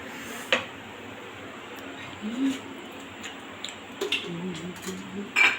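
A spoon lifts momos out of a bowl, giving a few light, sparse clinks against the dish with quiet pauses between them.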